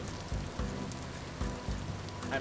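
Steady rain patters in a survival video game wilderness, a quiet continuous hiss of drops with a few soft low thuds recurring through the short stretch, no voices present.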